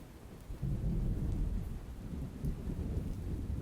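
Deep, rolling thunder in a Minecraft-style video game rumbles steadily with a faint hiss of rain, no voices.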